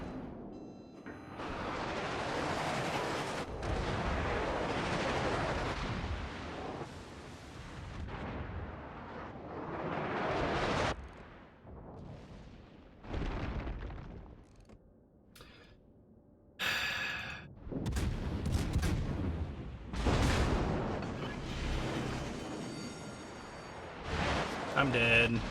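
Naval gunfire in World of Warships, several heavy booming salvos with rumbling decay spread across the stretch, loud and close, interleaved with a person talking and breathing between shots.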